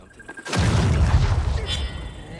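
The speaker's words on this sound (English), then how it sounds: "Throw a pipe bomb." A pipe bomb goes off in Dying Light: The Beast with a sudden loud bang, then a sustained low rumbling roar that slowly fades over the next two seconds.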